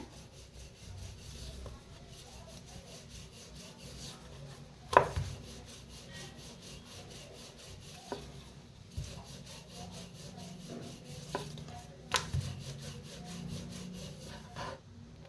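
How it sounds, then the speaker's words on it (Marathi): A rolling pin rubs and rolls over egg paratha dough on a board in steady back-and-forth strokes, quiet and close, with a few sharp knocks and taps between strokes. "पिठात बुडवूया आणि लाटून घेऊया"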